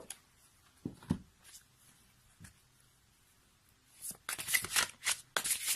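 Oracle cards for a tarot reading are handled quietly at first, with a few soft taps and flicks, then shuffled in quick, close, crisp riffling bursts near the end.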